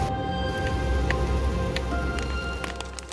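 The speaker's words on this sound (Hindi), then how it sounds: "मौसम ख़राब हो गया, बारिश काफ़ी ज़्यादा हो रही है" Heavy rain pouring in the mountains of the Chenab Valley, a loud, dense, steady hiss of drops striking surfaces with a few sharper drip impacts, with no voices.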